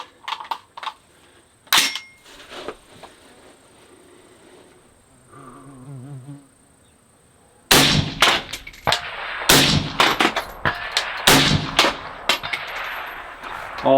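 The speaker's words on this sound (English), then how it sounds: "Three shots fired, no problem." Three loud, sharp 6mm ARC rifle shots from a CMMG rifle ring out close by in quick succession, with metallic clanks and handling noise between them.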